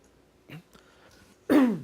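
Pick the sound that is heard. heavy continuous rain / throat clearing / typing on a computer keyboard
throat clearing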